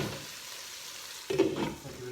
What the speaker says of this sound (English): I'll give it another stir.